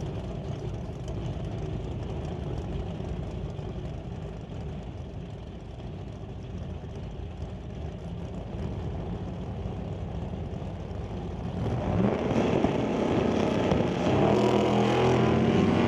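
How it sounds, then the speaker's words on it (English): Drag-racing cars, a Ford Falcon and a Monte Carlo, rumble loudly at the strip with a steady, heavy engine drone that swells louder near the end. "Bring it up for Dustin Hunter, racing the Ford Falcon out of Chilliwack"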